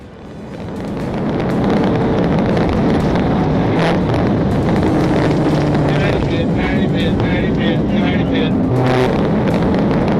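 A police car chasing a Honda during a PIT maneuver, heard as loud, steady engine and road roar with heavy wind buffeting throughout, and brief higher tones suggesting siren or tire noise.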